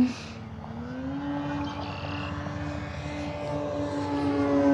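A 1600 mm PT-17 Stearman model biplane, electric powered, flies a slow loop outdoors, its steady propeller drone rising and falling in pitch as it passes near and then pulls away.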